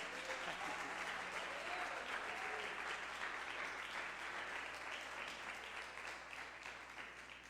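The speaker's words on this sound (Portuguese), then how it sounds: "Vamos aplaudir o nome de Jesus." Church congregation applauding together at an evening service, a dense, steady wash of clapping from many hands filling the room and easing off slightly toward the end.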